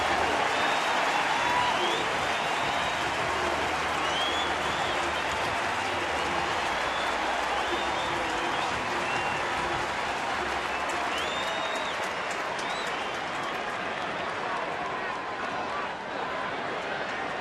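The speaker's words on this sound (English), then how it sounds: "A standing ovation for Joe Mauer." A baseball crowd gives a standing ovation for catcher Joe Mauer, loud sustained applause and cheering filling the ballpark for the whole stretch, with scattered whistles rising above the roar.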